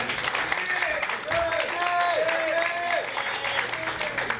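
Crowd applause greeting a boxer as he is introduced at a Korean Boxing Association 2020 rookie ranking bout, sustained, broad clapping with a fairly steady level, mixed with a voice and a venue PA tone.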